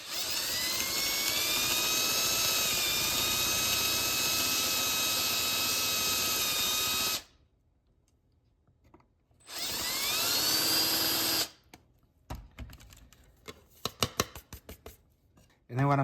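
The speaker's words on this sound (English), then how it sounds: "I got a 5/16 bit and I'm going to lightly screw around it" A power drill with a 5/16 bit countersinks a screw hole while installing a smoke detector base, whining loudly for about seven seconds, then a shorter second burst, followed by scattered clicks and handling noises.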